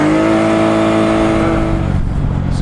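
Jeep engine revving hard while crawling through snow on a Colorado mountain pass, a loud sustained mid-pitched roar that holds steady and then drops off near the end, with no talking.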